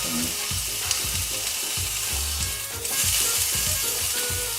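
Watermelon frying in hot oil, a loud constant sizzle and spatter with rapid crackling pops throughout and no speech.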